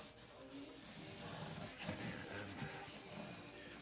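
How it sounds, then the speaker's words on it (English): Steady, soft rubbing as walnut oil is worked by hand into a cleaned 12-string guitar neck, a close, continuous whispery friction with slight swells, no voices. "now I am applying a coat of walnut oil"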